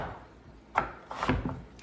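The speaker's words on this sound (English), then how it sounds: "Then I'm gonna go ahead and slice them longwise." Potatoes are sliced lengthwise into French fries on a cutting board, a few quiet knife cuts landing with soft wooden knocks, close and irregular, with no talk.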